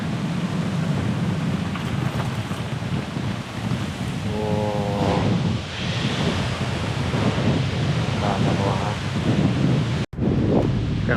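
Strong wind buffets the microphone in a steady roar, with a low rumble and gusts rising and falling throughout.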